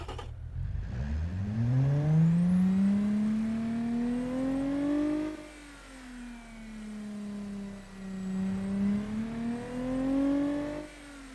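A luxury sedan engine built in Automation and driven in BeamNG revs steadily toward 6200 rpm, its whine climbing smoothly and then wavering up and down as the throttle eases and returns, loud and alone.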